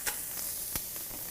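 A pan preheating on high heat sizzles steadily and loudly, a constant crackling hiss with a few sharper pops, heard alone up close.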